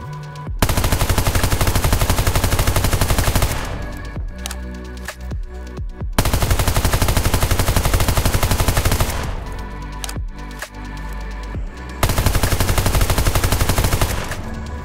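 A FAMAS rifle fires in the video game PUBG in three long, dense bursts of rapid automatic fire, loud and close, with brief gaps between them.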